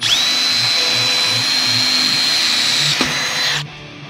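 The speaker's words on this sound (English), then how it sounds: "Now I'm going to drill and tap my holes for a 10 millimeter bolt." Power drill boring holes sized for 10 mm bolts while mounting an LED light bar on a vehicle project, a steady high whine running continuously for about three seconds before a brief clunk and a spin-down.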